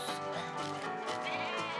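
Lambs bleat repeatedly in wavering, nasal cries, close and loud, one call running into the next with no pauses between.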